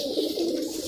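A domestic pigeon coos once, a soft, low, rounded call lasting under a second, close by and alone.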